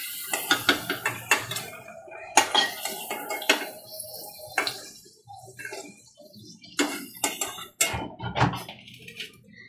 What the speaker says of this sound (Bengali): এবার আলুগুলো আমি একটা পাত্রে তুলে নেব।